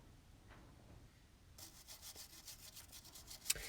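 A brass plated wire brush scrubs an old, squashed gasket surface on a Vauxhall/Opel Zafira B engine during cambelt replacement, giving quick close bristle strokes after a quiet start and ending in a sharp knock.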